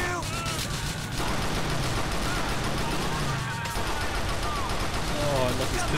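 Dense rapid gunfire and loud game action in Grand Theft Auto IV: The Lost and Damned, continuous and close, with a voice talking over it.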